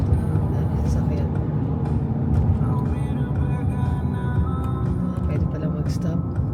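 Steady road traffic with many vehicles passing on a road in Alberta, a dense continuous rumble that stays close and fairly loud throughout, with people talking over it.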